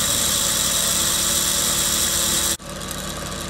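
A Dremel rotary tool spins a magnet in a levitation setup, giving a loud, steady high-pitched motor whine with a buzzing hum beneath. Partway through, the pitch and tone shift suddenly, and the motor keeps whirring alone.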